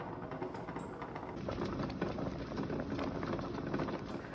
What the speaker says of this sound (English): this has been bubbling away for a good 5 minutes